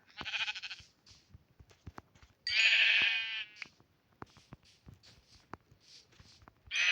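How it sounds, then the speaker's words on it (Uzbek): Minecraft sheep bleat loudly nearby, three drawn-out quavering calls spaced apart, with soft rustling and scattered taps in between. "Mana qo'ylar."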